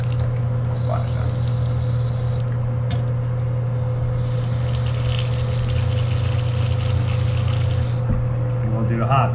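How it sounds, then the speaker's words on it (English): Kitchen faucet drain at an old beach house gurgling and sucking for air, a steady low hum under continuous watery rushing that swells and fades in bursts, close and fairly loud. "Gurgling, sucking for air."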